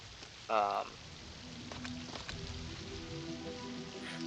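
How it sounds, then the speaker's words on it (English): Rain falls steadily in LEGO Fortnite, a soft constant patter over the whole stretch, with a brief tonal chime near the start and low ambient game sounds beneath. "It's raining."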